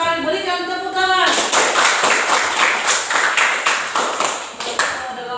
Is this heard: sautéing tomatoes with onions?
no